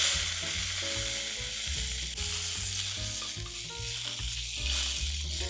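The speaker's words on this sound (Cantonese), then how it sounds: "跟住直接擺入牛柳，咁將佢表面煎香" Beef tenderloin sears in a hot wok with a little oil, giving a steady crackling sizzle that sits beneath louder tonal music throughout.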